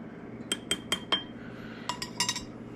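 Metal teaspoons clink against a plate as ground pumpkin-pie spices are measured out, two quick bursts of light chinking taps separated by a short pause, close and bright with no talking.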